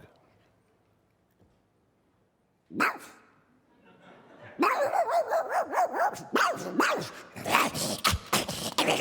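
A man imitates a dog with his voice, giving a burst of loud barks and yips after a quiet start, with the barking growing denser and louder toward the end.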